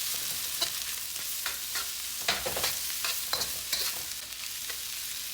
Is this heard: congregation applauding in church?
no